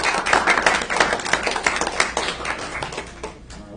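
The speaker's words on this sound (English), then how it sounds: "Let's give them a round of applause." An audience at a county board planning session claps for high school students, a moderately close round of applause with individual hand claps distinct, tapering off near the end.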